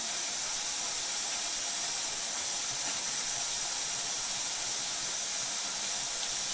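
Garlic and cumin sizzle in hot oil, producing a loud, steady hiss that holds evenly from start to finish.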